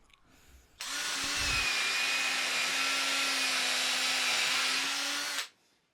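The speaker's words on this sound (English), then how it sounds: "I'm pre-boring all my screw holes because we're close to the end here and we don't want to crack our material" A power drill pre-bores screw holes in timber for a frame, whining steadily for about five seconds at close range before stopping abruptly, with a brief knock just before it starts.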